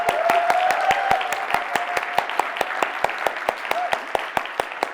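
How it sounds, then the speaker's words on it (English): An audience at a learning arena session gives warm, sustained applause, a dense patter of many hands with a few sharp near claps standing out and a faint voice audible beneath. "Then we go for a warm applause."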